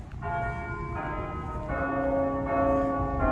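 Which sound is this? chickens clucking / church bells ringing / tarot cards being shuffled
church bells ringing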